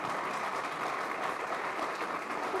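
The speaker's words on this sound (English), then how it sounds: "This is where you would all applaud in the middle of my speech." Audience applause breaks out midway through a retirement farewell speech at a leadership celebration, a steady, dense wash of clapping that holds at an even level for a few seconds.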